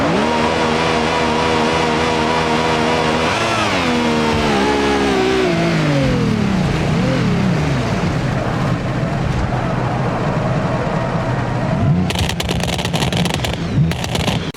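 A Lamborghini Murcielago engine in the BeamNG Drive video game revs loud and close, its tone climbing and dropping through gear changes into a sustained roaring drone, with a harsh crackling burst near the end.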